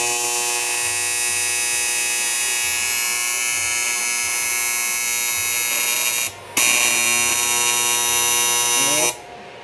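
TIG tack welding on a car fender: a steady electric buzz with a high whining hum runs nearly continuously, broken by one short gap, then stops near the end.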